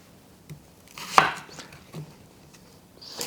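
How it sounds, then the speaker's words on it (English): An onion is cut with a knife on a board for red lentil soup, a few sparse, close knocks and slicing strokes at an uneven pace, quiet between cuts. "I'm going to prepare our onion by cutting it"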